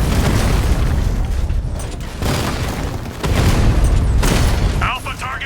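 Explosions and booming blasts as a Diamondback tank is destroyed in the video game Batman: Arkham Knight, loud and sustained with bursts, under game speech.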